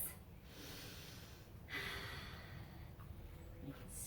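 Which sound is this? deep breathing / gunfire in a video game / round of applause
deep breathing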